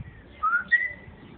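A grey parrot gives a short two-note whistle, a rising tone followed by a higher brief chirp, clear and close in a quiet room.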